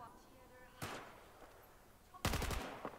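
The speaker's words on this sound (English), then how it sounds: "let's have a look what happens when we are now firing in full auto" Video game gunfire in Battlefield 4, a weapon fired in full auto: two short, sharp bursts of rapid shots, the second louder and longer, over a low background hum.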